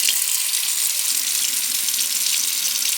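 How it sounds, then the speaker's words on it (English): Water runs from a sink tap in a steady, hissing stream as a stainless steel tumbler is rinsed, continuous and close with no voices. "back at the sink. We're just going to do a little rinse"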